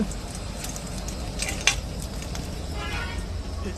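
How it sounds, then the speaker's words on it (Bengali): Soya chunks sizzle and fry in hot mustard oil, a steady hiss with a few clinks of a utensil against the pan, quiet and close. "তেলটা গরম হয়ে গেছে এবারে কিন্তু আমি সবিনটা ভেজে নেব"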